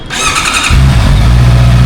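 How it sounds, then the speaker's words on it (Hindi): A Honda CBR 650R inline-four motorcycle cold-starts: a brief starter whir, then the engine catches into a loud, deep, bassy steady idle rumble up close. "इसको स्टार्ट करेंगे तो हम अब इसका इनलाइन 4 का जो कोल्ड स्टार्ट है वो देखेंगे कि इस तरह की इसमें साउंड आएगी"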